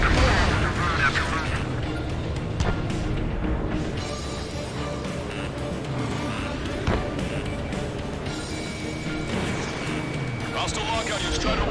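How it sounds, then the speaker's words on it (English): Heavy gunfire and artillery fire from the video game Ace Combat 7, with rapid cracking bursts and booms over a continuous roar of combat. Radio chatter runs underneath at points. "We're taking heavy fire."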